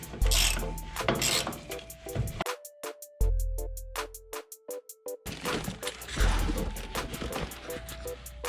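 A hand ratchet clicks in quick bursts while bolts come off the front frame and bumper support bracket of a 1959 Chevrolet Apache truck, with metallic clunks between the loud close ratcheting runs.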